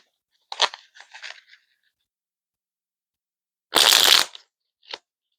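Angel Tarot cards being shuffled by hand, heard as a crisp riffle, a few softer flutters, a louder dense burst of card noise and one brief final snap, each fairly close and alone with no talking.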